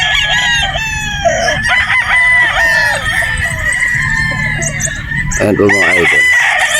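Sweater Boston gamefowl roosters crowing at a game farm in Batangas, several loud, drawn-out crows overlapping with clucks and bird noise, while someone talks over them nearby.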